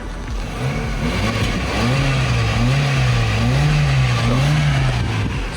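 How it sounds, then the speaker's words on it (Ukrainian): Used car at an inspection, either a Hyundai Getz or a Kia Ceed, its engine revved repeatedly: a steady idle rising and falling in several smooth waves of throttle, close and loud, with no voices. "А можете газнути трошки. Ну так, більш-менш нормально газнути."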